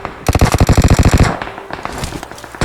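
Rapid automatic gunfire from two teams fighting in a mobile battle royale game, a loud dense burst of shots in the first half that gives way to scattered fainter shots and game noise.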